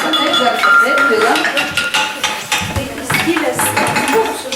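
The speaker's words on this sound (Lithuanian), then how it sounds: "Jau dabar žinote, kad tušti puodai garsiai skamba" Clay pots are tapped one after another in a pottery setting, giving bright ringing clinks and knocks in an irregular rhythm, close and loud, while people talk throughout.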